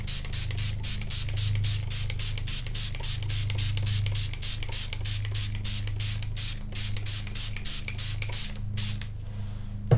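Rapid bursts of a spray bottle misting coating onto a polyester tee, about thirty quick pumps in a steady rhythm, close and loud over a low hum, stopping just before the end.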